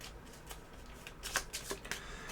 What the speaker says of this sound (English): So let's give a shuffle.